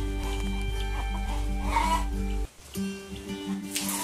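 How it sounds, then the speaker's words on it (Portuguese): Chickens in a yard cluck and murmur close by over a steady low hum, which drops out partway through while the birds keep clucking. "E minhas galinhas tá aqui, né?"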